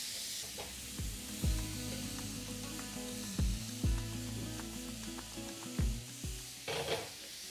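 Meat browns in a frying pan with a constant sizzle, broken by several sharp clanks and scrapes as it is stirred and moved, close and moderately loud.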